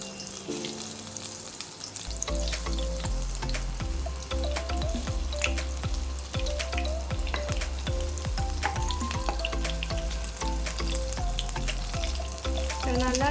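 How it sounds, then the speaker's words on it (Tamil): Cheese balls deep frying in hot oil in a kadai, a steady loud sizzle and bubbling that rises after the first couple of seconds and carries on continuously to the end. "நல்லா டீப் ஃப்ரை பண்ணி எடுத்துக்கலாம்"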